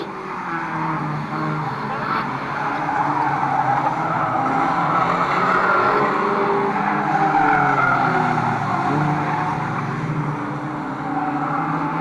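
Trailer race cars lap Fleet Raceway, their engines a steady, loud roar with tyre noise and no breaks, like a pack of cars running together on an oval track.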